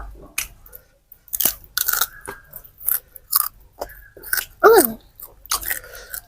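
Close, crisp crunching and chewing of fried fermented fish eaten with papaya salad, in repeated bursts with short pauses between bites.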